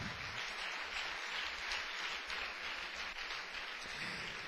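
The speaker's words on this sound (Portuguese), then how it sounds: "Então pode dar uma salva de palmas para o Senhor Jesus." Congregation applause for Jesus during a Portuguese-language church service, a soft, continuous patter of clapping heard at some distance without pauses.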